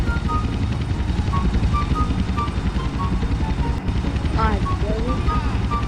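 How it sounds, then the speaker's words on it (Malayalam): A helicopter engine in GTA San Andreas drones loudly and steadily with a rhythmic rotor chop throughout, while people talk over it. "ഹെലികോപ്റ്റർ ഓൺ ആക്കി വെച്ചാരാ"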